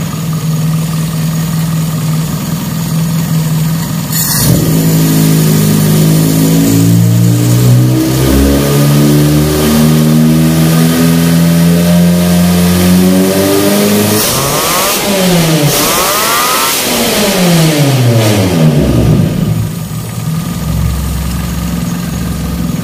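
A carbureted car engine with a replaced secondary vacuum idles, then revs repeatedly, the pitch climbing and falling in loud surges that rise high, then settles back to a steady idle.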